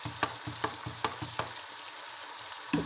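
Beef macaroni with soy sauce cooking in a pan on a low flame, a soft sizzle broken by a few rhythmic scraping stirs, quiet and close, with no voices.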